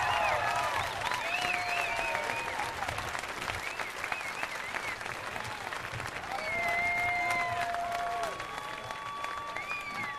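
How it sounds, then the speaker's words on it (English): Audience applause at a 1999 swim meet finals held at a yacht club: sustained clapping from a crowd, with whistles and cheers rising over it, continuous and fairly loud. "Let's give Mike and Marcy the greatest round of applause."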